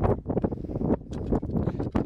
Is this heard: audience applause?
no